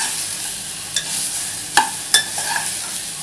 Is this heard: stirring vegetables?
yes